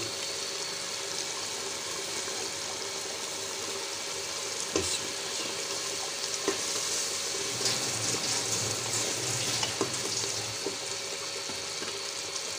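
Turnip and meat curry sizzles steadily in a pot during bhunai, with occasional stirring knocks and clinks over a constant frying hiss, close and unaccompanied by talk.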